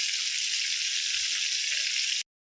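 Chicken frying in a pan, golden brown, giving a steady, dense sizzle that holds evenly and then cuts off abruptly.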